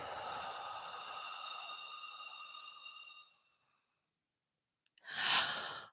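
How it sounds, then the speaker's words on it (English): A long, steady breath is pushed out slowly during a breathing exercise, a close, even airy exhale lasting about three seconds. It fades into silence, and a short sharp breath sound follows. "And then exhale as long as you can."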